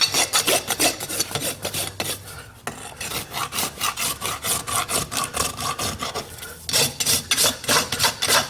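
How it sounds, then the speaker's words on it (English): A farrier works a rasp across a horse's hoof while shoeing an event horse, giving steady, rhythmic rasping strokes that sound close and fairly loud, with a short pause partway through before the strokes resume. "Light rasping."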